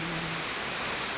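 Steady broadband rush of a forest waterfall at a hillside trek spot among large trees, continuous and even for the whole moment, with no voices.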